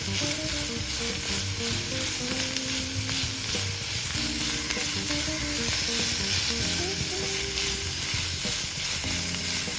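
Two finely chopped onions fry in a pan for spicy beef unnakaya, giving a continuous close sizzle with occasional stirring scrapes and no talk.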